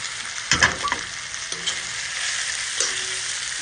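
Beef pieces fry in a layer of oil in a pot with a loud, steady close sizzle, punctuated by a few clattering stirs and knocks, and no talking.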